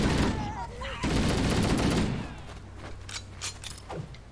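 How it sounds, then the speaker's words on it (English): Heavy ship-mounted cannon fire in Halo: Combat Evolved Anniversary, a loud dense barrage of booming blasts for about two seconds, then fading into scattered fainter shots and rumble. "It's a gun that fires at other ships."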